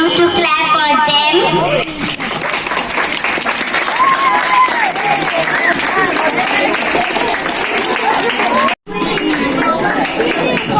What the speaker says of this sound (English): So I would like all of you to clap for them.